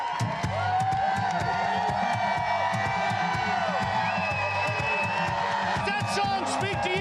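A crowd in Moyock, North Carolina cheering and yelling, dense shouting and whoops from many voices over continuous background clamour.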